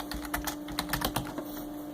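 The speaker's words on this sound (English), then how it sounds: "I'm just going to type in the port number, and then I'll type in some data," Quiet, close keystrokes clatter on a computer keyboard as a port number and data are typed, a light irregular patter of clicks under a steady low hum, with no voices.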